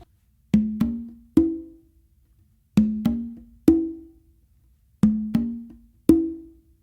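Congas in a melodic tumbao variation, played open, ghost note, open: three groups of three clean, close drum strokes, the open tones ringing with short pitched decay and brief silences between groups, no talking.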